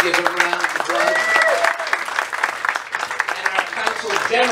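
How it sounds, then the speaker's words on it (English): Lively applause rises from guests at a 50th anniversary dinner, steady clapping mixed with voices and a few cheers calling out over it throughout. "Reuben, Diaz, give him a round of applause."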